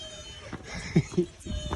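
A cat meows on a roughly 15% incline street after leaving Istanbul, giving two short close meows in quick succession over outdoor background noise.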